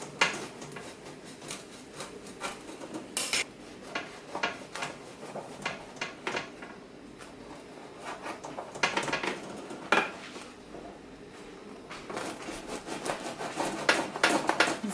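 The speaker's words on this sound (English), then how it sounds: "I'm just gonna cut this in the pan" A knife cuts through soft focaccia bread inside its baking pan, with close, intermittent scraping and clinks of metal against the pan and quiet rubbing between strokes.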